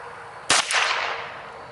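A Ruger Wrangler .22 revolver fires a single sharp, close shot, its crack trailing off into a short echoing decay over quiet surroundings.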